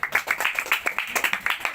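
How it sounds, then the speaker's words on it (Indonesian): A classroom of junior high students claps for a classmate, a short burst of quick, uneven hand claps from a small group nearby. "kita kasih aplaus dulu untuk Mira ya"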